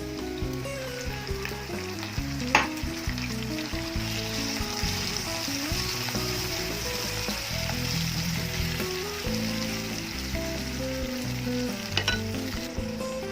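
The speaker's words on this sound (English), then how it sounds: "next add the prawns marination," Spicy prawn marinade with sliced onions frying hard in a pan for prawn pulao, a loud continuous sizzle and crackle with a few sharp spatters, steady throughout and with no talking.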